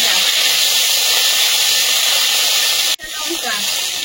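Ginger garlic paste hitting hot oil in a wok with dried chilli, bay leaf and cumin, a loud steady broadband sizzle that briefly cuts out and swells back, with a voice speaking over it.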